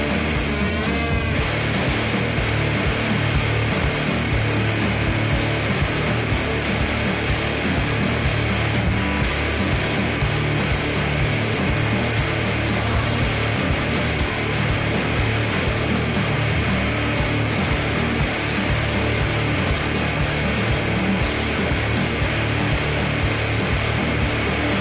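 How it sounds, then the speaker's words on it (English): A band's riff played back from a recording, dense and continuous at steady loudness throughout, full-band sound with no talk over it. "let's have my riff of the week, and it sounds like this"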